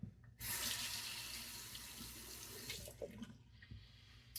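A bathroom tap runs steadily into a sink as the face is wetted for lathering before a shave, a close, continuous rush of water that starts abruptly and holds level, with faint splashes near the end.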